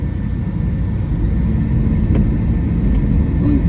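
A restored 1957 Ford Thunderbird out on a cruise, its engine giving a steady, loud low rumble with road noise throughout, heard from inside the car.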